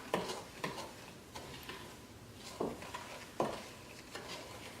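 Strawberry sugar scrub stirred with a few drops of fragrance oil, spaced gritty scraping strokes of a utensil in a bowl, about six sharp scrapes at uneven intervals, close and quiet.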